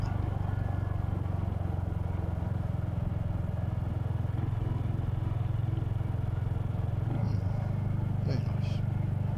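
A Royal Enfield Hunter motorcycle cruising along rural lanes near Ingleborough and Ingleton, its steady low engine drone running throughout beneath a man's conversation.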